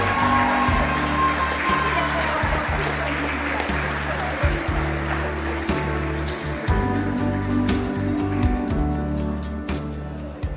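An awards-ceremony crowd gives a sustained round of applause for the category nominees, broad clapping with music playing beneath, and a few louder individual claps standing out.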